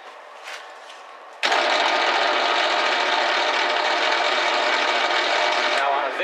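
Lathe spinning a Crosman 1377C air pistol part, a steady loud whirring drone that starts abruptly after a brief quieter hum and holds evenly to the end.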